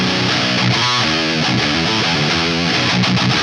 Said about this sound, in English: Let's add a tube screamer.